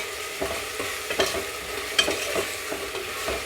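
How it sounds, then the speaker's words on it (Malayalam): Garlic and ginger sizzle steadily in a hot pan for a Kerala-style chickpea curry, with a spoon scraping and stirring in an uneven rhythm of soft knocks over the constant frying hiss, close and moderately loud with no talking. "എന്നിട്ട് നന്നായി ഒന്ന് ഇളക്കി കൊടുക്കുക."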